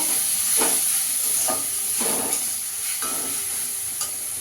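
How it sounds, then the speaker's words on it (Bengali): Masala for mutton kosha sautéed in a pan: a steady sizzle underneath with rhythmic scraping stir strokes about every half second, close and without voices. "ভালো করে কষিয়ে নেব।"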